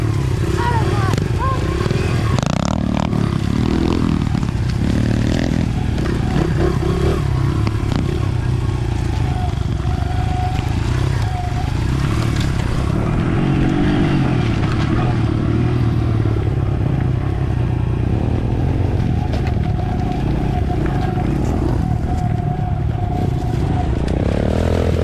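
Dirt bikes roaring along a trail, a loud, close, continuous engine drone with rattling and shifting revs throughout, overlaid by wind buffeting and occasional shouted talk.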